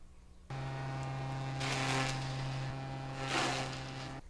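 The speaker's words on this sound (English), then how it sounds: "that is the sound of the recycler from Creatures 3." Recycler sound effect from the video game Creatures 3: a sudden steady mechanical hum switching on, with airy whooshing swells rising over it twice, moderately loud and alone.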